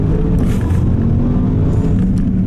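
A 2021 Bentley Bentayga ultra-luxury SUV pulls away hard, its engine a loud, dense low rumble that holds steady and close throughout.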